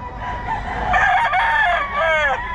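Sir Nelson's rooster crows nearby, a single clear cock-a-doodle-doo lasting a couple of seconds with a rising and falling warble.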